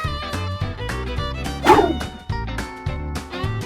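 A dog barks once over bouncy background music.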